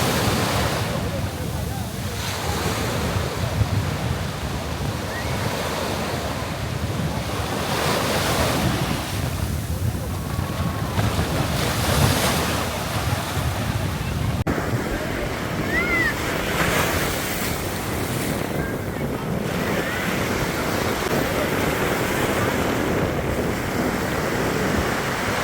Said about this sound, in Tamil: கேபேஜ் பீச்ல வந்து பார்த்தீங்கன்னா, மக்களுமே கொஞ்சம் கம்மியா தான் இருந்தாங்க.